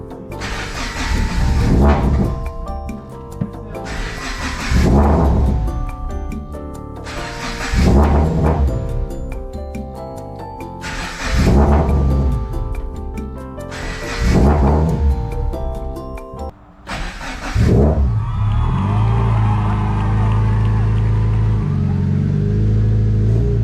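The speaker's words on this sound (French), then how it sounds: "t'entends le ralenti là?" A race car engine being prepared for a motorsport season is cranked in repeated bursts, then catches and settles into a rough, loud, rumbling idle close by.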